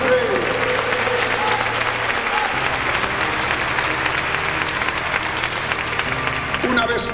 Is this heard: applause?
yes